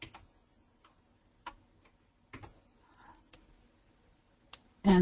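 Computer mouse clicks while moving shapes in a 3D box drawing program, several sharp isolated clicks spaced irregularly over quiet, ending in a louder burst.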